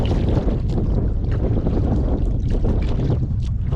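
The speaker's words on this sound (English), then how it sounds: "Windy this end of the lake." Wind sweeps across a lake around a canoe on a fishing outing, a steady broadband rush with microphone buffeting and faint water sounds, constant and close with no talking.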